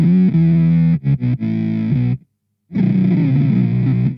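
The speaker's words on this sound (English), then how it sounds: "that's more like just a normal, like a slow attack synthy kind of sound" Line 6 FM-4 filter modeler on a slow-attack synth setting, producing a loud, buzzy, distorted sustained tone with pitch changes, a brief silent gap, then a swelling, gradually rising note.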